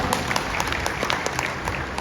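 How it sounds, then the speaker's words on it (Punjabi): A crowd at a Congress party rally in a Punjab village near Sri Anandpur Sahib bursts into applause, a dense, steady clapping that sounds close and fairly loud throughout the short burst. "ਇੱਕ ਤਾੜੀ ਮਾਰੋ ਯਾਰ"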